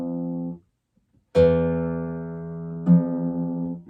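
A guitar string plucked twice after its tuning knob is turned: each pluck gives a clear sustained tone with steady harmonics, loud and close, the second pluck sounding slightly higher in pitch.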